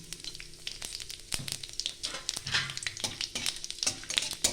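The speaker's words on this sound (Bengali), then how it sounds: "আমি এখানে এই তেলের মধ্যেই দিয়ে দেবো দুটো শুকনো লঙ্কা, একটা তেজপাতা আর হাফ চামচের মতন পাঁচ ফোড়ন।" Dried red chillies, a bay leaf and panch phoron sizzle and crackle in hot oil in a pan, with steady frying hiss and sharp irregular pops throughout, close and fairly loud.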